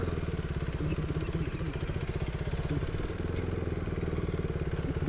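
A motorcycle rides along a bypass road in General Trias, its engine putting out a steady, close, continuous drone with a rhythmic low chug and no clear revving.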